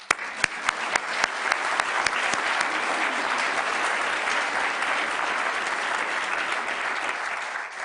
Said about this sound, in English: Let us give them another clap.